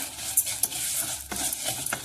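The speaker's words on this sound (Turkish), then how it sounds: "Yılbaşı şehriyelerimi içerisine ilave ediyorum. Ve kızartmaya başlıyorum." Dry vermicelli noodles rustle and scrape against a pan as they are stirred and fried, with sizzling oil and occasional clinks of a utensil.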